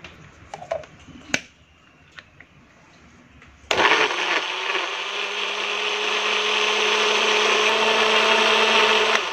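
A kitchen blender grinds spices with a little coconut milk for a long-bean coconut curry; clicks and handling noises come first, then the motor starts abruptly and runs loud and steady to the end.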